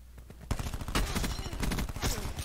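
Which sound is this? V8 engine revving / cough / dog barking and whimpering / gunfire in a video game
gunfire in a video game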